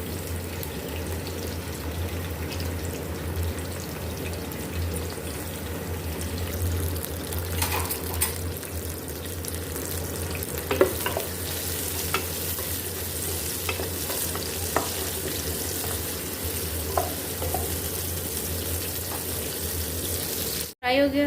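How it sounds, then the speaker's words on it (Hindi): Steady sizzling of onions frying in a pan, with occasional stirring scrapes and clicks, continuous and close, ending with a brief knock. "अब इसमें हम प्याज डालेंगे। प्याज को हमने फ्राई कर लेना है।"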